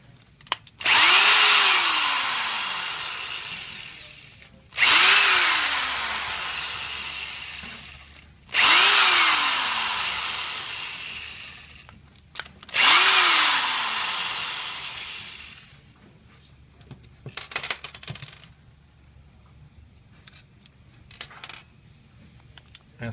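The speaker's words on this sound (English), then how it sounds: "Now we're going to remove the remaining four screws that hold these parts together." A power drill backs out four screws from a pump head, with four long close whirring runs, each with its pitch sweeping downward, followed by lighter clinks of parts being handled.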